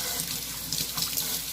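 Kitchen tap water runs steadily into a sink while fresh string beans are washed, a close, continuous splashing rush that fills the brief moment without any voices.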